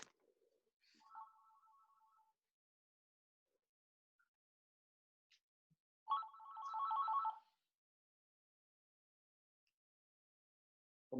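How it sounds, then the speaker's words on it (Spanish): A landline telephone rings twice in the background, two short electronic trilling bursts separated by several seconds of quiet, faint and a little distant, during a pause in a Spanish-language sports coaching talk. "Perdonad que está sonando el teléfono fijo, no voy a atenderlo."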